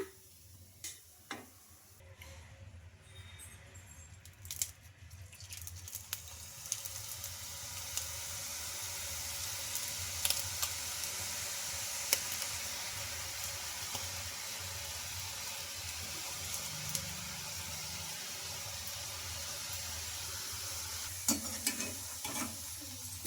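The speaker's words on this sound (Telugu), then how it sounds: "ఇలా రెండు వైపులా బాగా ఫ్రై చేసుకోవాలి" Aloo bhujia pieces fry steadily in hot oil in a pan, a continuous sizzle that holds for the whole stretch, with occasional small ticks and stirring clinks over it and no voices.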